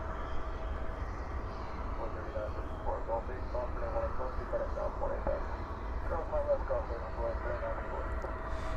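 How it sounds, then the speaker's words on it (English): An Airbus A321neo airliner arriving at DFW airport at night gives a distant, steady jet roar and rumble. Someone talks over it, with faint crowd chatter. "We have an A321 coming in from Portland,"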